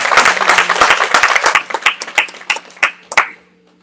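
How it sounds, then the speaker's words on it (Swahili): A church audience applauds, many hands clapping in a dense burst that thins into scattered, separate claps and fades out within a few seconds. "Tuwapigie makofi wataalamu wote."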